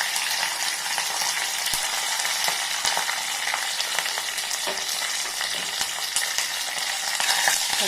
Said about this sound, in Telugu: కరివేపాకు వేద్దాం. కొంచెం పసుపు వేద్దాము.